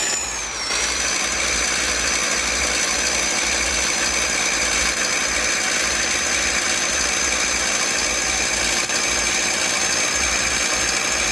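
An Atron truck engine in the driving game Driver Jobs idles and drones steadily, a constant loud mechanical hum with a fixed whine running through it, no voices heard.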